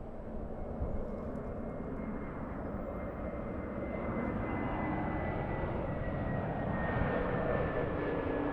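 A heavy jet airliner departs runway 24 right at Los Angeles International Airport, its engines rumbling in a broad, steady roar that grows slightly louder partway through, with no talking.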